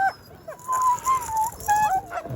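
Dogs out in the snow whimper and whine in high, wavering cries, close by, in several short bursts with small pauses between.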